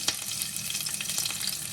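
Cumin seeds, chilli and grated ginger frying in hot oil, a dense close sizzle with light stirring throughout.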